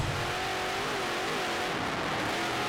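Stock race car engine roaring steadily at high revs during a North South 100 short-track race, a continuous loud drone with rising and falling pitch, no talk over it.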